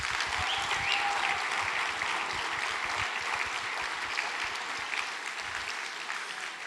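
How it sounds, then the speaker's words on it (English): A crowd at an evening real estate event claps steadily for a man, the dense applause holding at an even level throughout without any talking over it. "So can we just give him a hand of applause"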